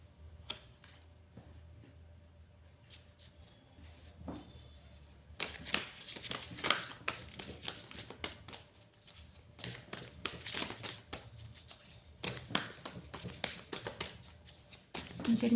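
A deck of colorful affirmation cards is shuffled and drawn close to the microphone, with soft riffling and tapping in irregular bursts that grow busier midway, and some quiet talk in places.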